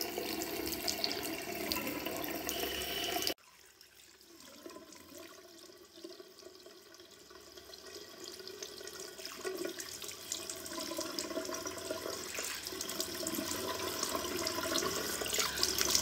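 Running tap water splashes steadily while egg white is washed off a face at a sink. A loud gush breaks off, then a softer, continuous pour gradually builds, heard up close with no talking.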